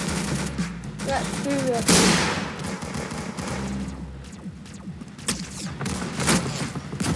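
Gunfire from a shooting video game in Arsenal mode crackles in quick bursts throughout, with a loud blast near the middle, mixed with game effects while a player talks over it.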